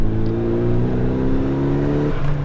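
Nissan Silvia S13, a lightweight JDM coupe just under 1200 kg, accelerates hard with a loud, steady engine drone whose tone rises then drops as it revs and shifts, close by with no talking.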